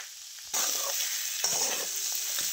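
Dry mutton curry stirred in a pan sets off a sudden close sizzle that carries on steadily, with a couple of scraping stirs and no voices.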